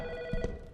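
A telephone rings inside the Autopsy Simulator video game, a steady electronic tone with a sustained ring under a low background hum, fairly quiet, with no voices during it.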